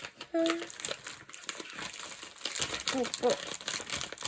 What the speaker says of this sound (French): Je vais le remettre dans son enveloppe.